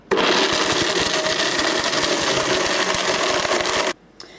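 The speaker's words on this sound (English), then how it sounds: "I'm going to put the blender on light juice and then blend." A Blendtec blender runs on its light juice setting, grinding flour with a loud, steady whirring roar for about four seconds before cutting off abruptly, followed by a brief faint clatter.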